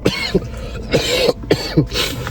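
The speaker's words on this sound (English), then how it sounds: "I just coughed" A run of several sharp coughs in quick bursts, close and fairly loud, with short breathy gaps between them.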